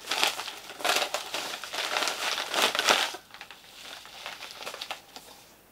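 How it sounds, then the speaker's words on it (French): A large paper envelope holding books being torn and opened up close, with loud crinkling, crumpling and rustling for the first three seconds, then softer scattered paper rustles, and no talk. "je vais commencer tout de suite avec deux enveloppes que je n'ai pas encore ouvertes"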